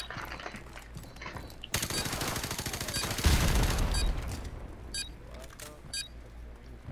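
Bursts of gunfire in Call of Duty: Modern Warfare, loud and dense rapid firing with a heavy boom in the middle, then scattered shots, with players shouting over the action.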